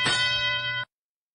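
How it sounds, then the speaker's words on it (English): A single electronic ding bell marks the start of the tele-op period during a FIRST robotics qualification match at a district event. It rings clear and loud for under a second, then cuts off abruptly. "that ding, ding, ding means that it's the sound"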